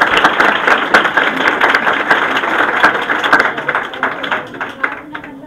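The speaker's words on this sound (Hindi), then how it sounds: "बस ताली बजती रहे भाई" Children and adults at a New Year celebration at an education centre clap in a dense, continuous patter throughout, with voices mixed underneath, thinning slightly toward the end.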